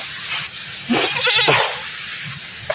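A single short goat bleat rises out of a quiet background, close and fairly loud, followed by a faint breathy hiss.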